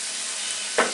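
Pumpkin and small shrimp sizzle steadily in oil over low heat, with one brief stir near the end.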